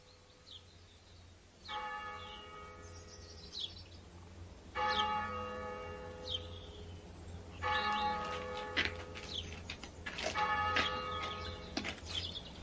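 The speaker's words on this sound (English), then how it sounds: "Toll of the passing bell." A church passing bell tolls slowly for a death, each deep ringing stroke spaced several seconds apart, with birds chirping faintly in the background.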